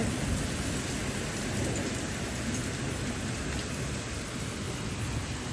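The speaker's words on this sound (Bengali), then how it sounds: "বৃষ্টির সাউন্ড আমার কাছে অনেক বেশি ভালো লাগে" Heavy rain pours down during a sudden kalbaishakhi-style storm with hail in France, a dense, steady, loud hiss of downpour that stays constant throughout with no voices.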